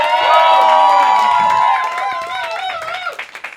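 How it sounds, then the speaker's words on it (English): An audience at a comedy roast battle in New York cheering and whooping loudly, with scattered claps picking up as the noise fades toward the end. "Clap it up, everyone."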